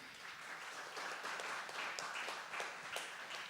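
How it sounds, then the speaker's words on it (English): A crowd at a constitution quiz finale applauds steadily, dense overlapping clapping filling the whole stretch at an even level. "with a huge round of applause."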